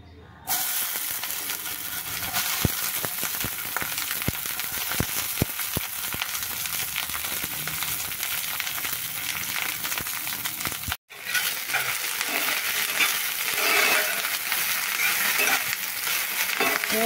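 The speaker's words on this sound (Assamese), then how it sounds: "তেলত এতিয়া মই সবজিখিনি এটা এটা কৈ ভাজি লওঁ" Vegetables and potatoes frying in hot oil for poha, a loud continuous sizzle and hiss with scattered utensil clicks early on, a brief break near the middle, then frying resumes strongly.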